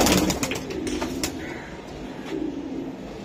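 Giribaj high-flying pigeons, a pair kept by a breeder, coo in low rolling murmurs close by, with some brief rustling and clicks early on and no talk.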